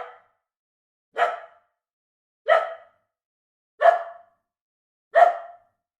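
Five short barks from a dog, evenly spaced about a second apart, each crisp and close with silence between.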